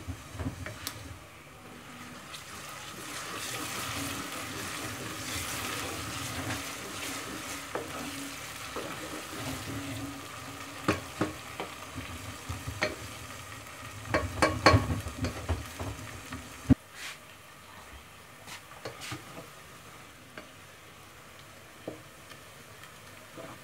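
Onions and ginger-garlic paste sizzle and fry steadily in a pan, with frequent stirring scrapes and clinks against the pot; no talking.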